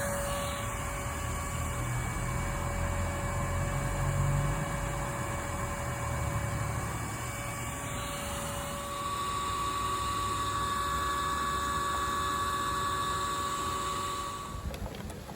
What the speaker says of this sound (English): they get sucked into this collection vac